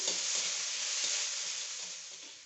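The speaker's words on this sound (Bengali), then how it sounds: "টমেটোটা একটু ভাজুন" Tomatoes frying in a pan with spices and bay leaf, a steady loud sizzle with stirring scrapes throughout, no voices.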